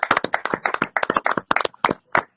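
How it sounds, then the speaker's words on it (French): A church service congregation claps for Jesus with close, sharp, irregular handclaps. The claps come in quick bursts and then spread out into a few scattered ones. "peux-tu acclamer pour Jésus?"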